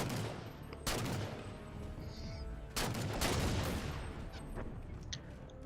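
Gunfire in Halo Spartan Ops fills a firefight on the Wet Creel map, with sharp blasts at intervals over continuous rattling weapon fire and explosions, loud and close throughout.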